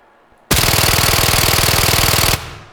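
Sustained automatic gunfire from a weapon in the video game Incursion Red River, a loud continuous rapid burst of shots lasting nearly two seconds, followed by a short fading tail.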